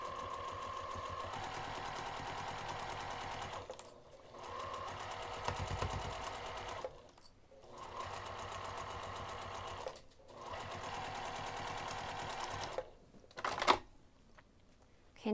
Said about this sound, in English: I'm going to sew this pinned edge using 1/4 inch seam allowance